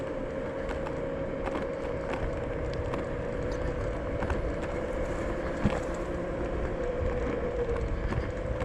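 A Zero 9 electric scooter rolls along at a steady clip on speed setting 2, giving a constant whine and road rumble with occasional light clicks and bumps.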